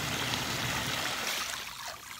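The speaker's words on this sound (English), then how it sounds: "Oh man, those jets." Hot tub jets churn the water in a steady, close bubbling rush that eases slightly toward the end, with no talk over it.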